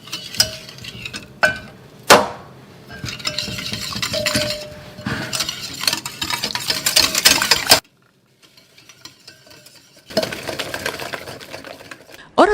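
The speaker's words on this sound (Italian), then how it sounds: "mescoliamo con un cucchiaio" A spoon beats apple fritter batter of milk, flour, baking powder and cinnamon in a bowl: loud, close clinks and scrapes in quick bursts, then a silent pause of about two seconds before the mixing resumes.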